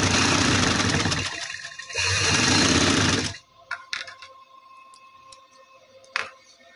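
A sewing machine runs a fast, loud stitching burst along the marked edge of a trouser pleat, pauses briefly, runs again, then stops, leaving faint handling clicks.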